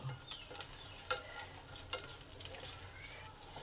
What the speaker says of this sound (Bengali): ঘিটা গরম হলে মুঠো কিশমিশ আর 1 মুঠো কাজু আছে, সেইগুলো দিয়ে দিলাম। কাজু কিশমিশটাকে ভালো করে ভেজে নেব।